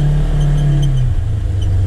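A Polaris Ranger XP1000 side-by-side fitted with a Hunterworks belt accelerates hard off the line, its engine a loud, close, sustained drone that drops slightly in pitch partway through.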